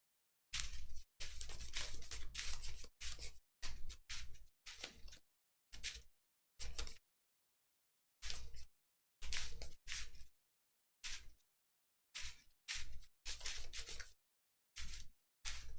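Game cards are shuffled and handled at a Keyforge tournament table, a series of short, crisp riffling bursts separated by silent gaps, close and fairly quiet.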